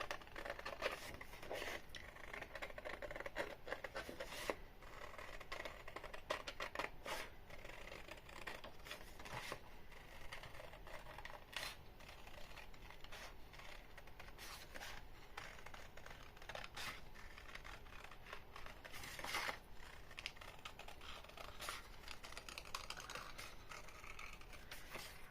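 Paper being cut for a homemade Pokéball invitation card, giving a steady run of soft, crisp snipping and rustling clicks close up, fairly faint, with no talking.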